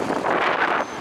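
Wind gusts outdoors as the weather turns cloudy, a loud, close rushing burst that buffets the microphone for about a second, then drops off.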